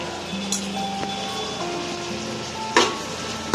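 Green chilies, curry leaves, coriander and mint frying in a pan while being stirred, a steady close sizzle with occasional clinks of the spoon against the metal and no talking.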